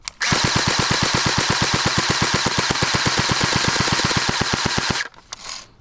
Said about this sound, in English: Now let's go to full auto and test it out.